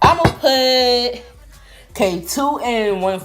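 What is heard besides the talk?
None of the usual background noises is heard.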